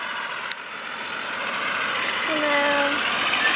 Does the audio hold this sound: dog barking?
no